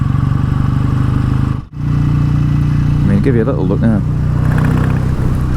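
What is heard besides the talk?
BSA A10 Super Rocket motorcycle engine while riding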